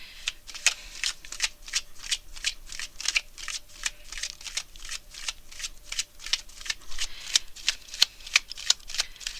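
Tarot cards are shuffled in a fast, steady riffle of crisp slaps and flicks, close and clear, with no talk.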